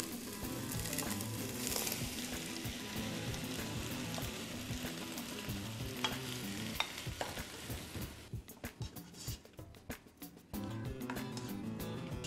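Chopped tomatoes fry and sizzle in a pan with garlic and vinegar for a sauce, a dense steady crackle with stirring scrapes, then a choppier stretch of stirring before the sizzle returns.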